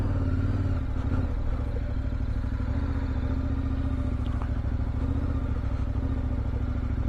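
A KTM 1190 Adventure motorcycle ridden off-road in off-road mode, its engine revving and spinning up in a loud, continuous drone with some clatter, close and steady throughout with no talk.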